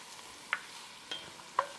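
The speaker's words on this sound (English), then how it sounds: "And we're going to saute this down" Garlic, onions, bell pepper and celery sautéing in a pot, a faint low sizzle broken by three light, evenly spaced utensil clinks, no talking.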